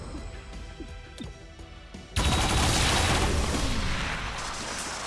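Gunfire in the tactical game Chimera Squad; scattered clicks and thumps lead into a sudden loud barrage of shots and crashing impacts that keeps roaring for several seconds.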